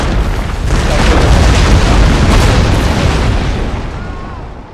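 Cannon artillery fire during a siege battle in the game Napoleon Total War, a loud sustained rumbling boom that swells and slowly fades over several seconds.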